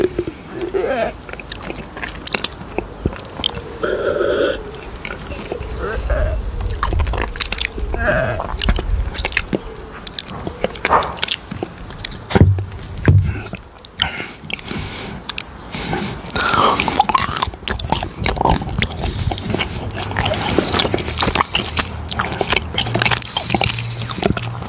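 Someone eating Kandit chocolate pralines up close for ASMR, with soft repeated biting, wet chewing and squishing sounds, intermittent and near, with occasional quiet whispery noises between bites.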